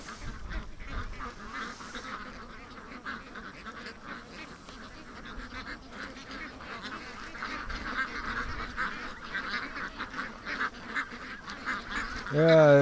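Ducks quack and call repeatedly at a moderate distance, a steady chatter of calls with a voice briefly heard at the end.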